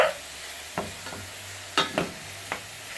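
Mushrooms and garlic frying in a pan, with a steady low sizzle broken by five or six distinct scraping stirs at uneven intervals, close and moderately loud, with no voices.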